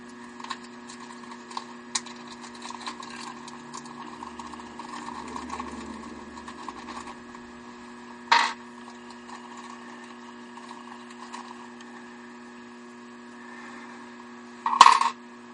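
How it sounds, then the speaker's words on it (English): Small metallic clicks and taps of a screwdriver working screws out of a Oneway basic 4-jaw scroll chuck, over a steady background hum, with two sharper clinks standing out. "let me get the screws out here."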